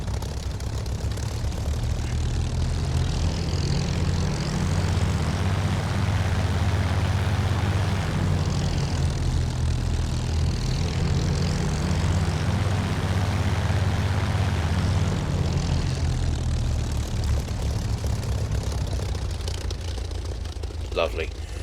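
A Hawker Hurricane Mk1's propeller engine drones steadily in a flight simulator game, a loud, continuous low throb that swells and eases slightly over about twenty seconds.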